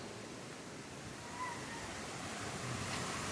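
Panchalinga waterfall in the Thirumoorthy hills makes a steady, even rushing wash of water noise that stays constant and moderately loud throughout, with no voices.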